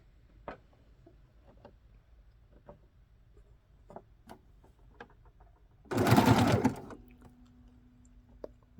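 A sewing machine stitches fabric in one loud burst of about a second, close by, between quiet taps and handling clicks.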